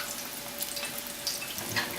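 Flautas fry in hot oil in a pan, giving a steady close hiss and crackle with a few brighter spits and no talking.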